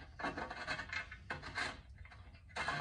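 A plug is threaded by hand into a turbo BMW E36 engine valve cover, giving soft gritty rubbing and scraping strokes in short bursts with brief pauses, close and quiet, with no talking.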